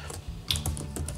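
Keystrokes on the shallow, slightly flexing keyboard of an MSI GF66 Katana gaming laptop, a quick uneven run of soft clicks close up over a low steady hum.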